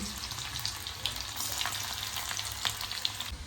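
Cumin seeds, curry leaves and garlic sizzle and crackle steadily in hot oil, with a dense hiss of frying and occasional sharper pops throughout.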